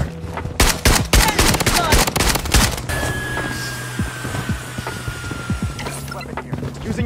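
Video game gunfire, dense bursts of rapid shots crackling loud and close for a few seconds, then sparser distant pops and thuds under a high whine and background battle noise.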